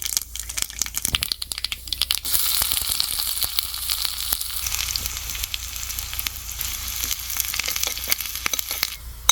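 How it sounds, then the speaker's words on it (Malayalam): Hot oil crackles and spits with rapid popping bursts as mustard and fenugreek seeds splutter, busy and close throughout. "ഇച്ചിരി ഒരു എണ്ണയും നമുക്ക് കടുക് ഒന്ന് പൊട്ടിക്കാം"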